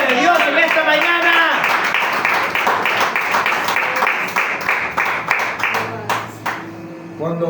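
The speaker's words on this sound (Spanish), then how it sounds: "Aplaude la gloria de Dios en esta mañana." A church congregation claps together during a Sunday morning service, dense rhythmic applause running the whole time with a preacher's voice speaking over it at the start.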